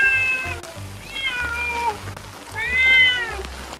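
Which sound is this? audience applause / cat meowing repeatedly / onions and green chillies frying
cat meowing repeatedly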